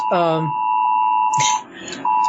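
A phone sounds a presidential emergency alert test as a steady electronic tone that breaks off briefly and resumes. Close voices talk over it.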